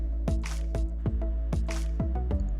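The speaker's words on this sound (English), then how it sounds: "let's dampen our face with water first" Water is splashed onto a face by hand, giving a steady series of soft wet slaps and drips about every quarter second, close and clear against a low hum.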